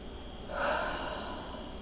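A single deep belly inhale during a mobility workout, a soft airy swell that rises and fades over steady low background noise, close and moderately quiet.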